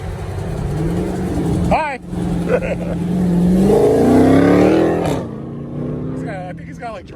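Wide-body Dodge Hellcat on drag radials revving its engine, a rising throaty roar swelling mid-clip over a steady engine drone, with people talking and a brief greeting spoken nearby.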